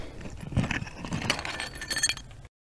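Old glass bottles clink and knock together as they are dug out of an early-1900s privy in an Arizona backyard, a series of close, irregular clinks and scrapes that stops abruptly.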